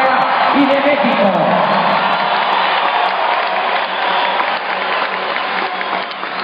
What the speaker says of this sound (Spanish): Un aplauso para los medios de comunicación independientes de Baja California y de México.